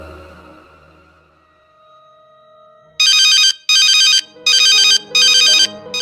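A mobile phone rings with an incoming call: after a faint, quiet stretch, a loud electronic ringtone plays in four even, closely spaced bursts, close and clear with no talk.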